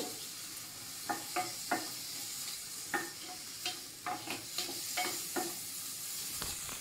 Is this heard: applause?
no